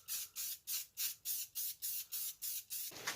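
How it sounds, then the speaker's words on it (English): Sandable primer sprayed from an aerosol can over a rusty patch, in about nine short, evenly spaced hissing bursts, close and fairly loud, with no talking. "Take your primer, and basically we just want to kind of coat that area."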